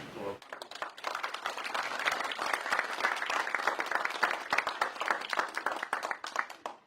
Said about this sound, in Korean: 조은영 전도사님 나와서 또 큐티 강의하실 때 힘찬 박수로